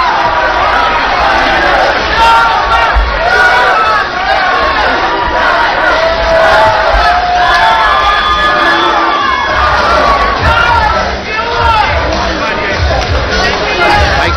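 A packed fight crowd at the Hard Rock Hotel and Casino roars and cheers without a break, loud and close, with shouts and babble mixed into the din.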